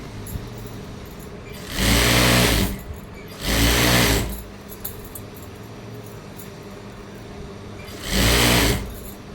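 A sewing machine stitches a fall onto the edge of a sari, with three close, loud bursts of rapid whirring stitching separated by short quiet pauses.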